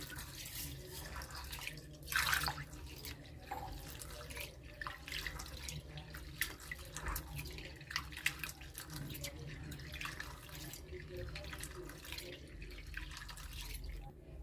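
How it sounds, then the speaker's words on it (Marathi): Split pigeon peas (toor dal) washed in a bowl of water close by, water swishing and splashing as the grains are stirred and rubbed in steady, repeated motions. "इथे मी एक पेलावर तूर डाळ घेतलेली आहे, ती आपण स्वच्छ धुवून घेणार आहोत"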